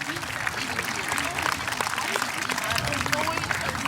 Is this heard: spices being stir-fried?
no